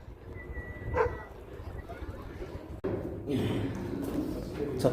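Local street dogs scuffle and bark near the Egyptian pyramids, a short yelp standing out near the start, then rough growling and barks over steady outdoor background noise.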